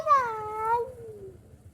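A cat gives a single drawn-out meow that falls in pitch, close and fairly clear over a low background rumble, with no talk.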